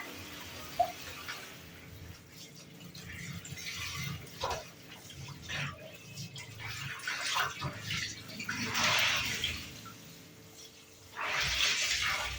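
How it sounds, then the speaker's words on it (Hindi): Clothes being washed by hand in water, with sloshing, splashing and wet scrubbing in uneven bursts, close and fairly soft, and brief louder splashes near the end. "देखो कपड़े भी बिल्कुल साफ तरीके से धुल रहे हैं"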